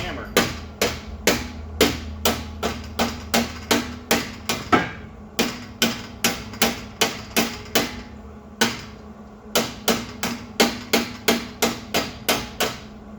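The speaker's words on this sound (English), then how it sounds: "By tapping the pipe, you're hitting with the hammer, you're knocking it closer to the other pipe" Steady hammer taps on a Jeep Grand Cherokee exhaust pipe, knocking it against another pipe to close the gap before welding, about two blows per second, sharp and close, with a few short pauses.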